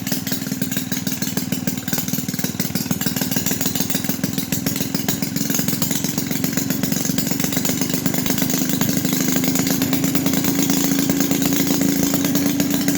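A rough-running Maytag 72 twin-cylinder engine runs steadily at close range, a loud continuous buzzing drone with rapid firing pulses and no talking.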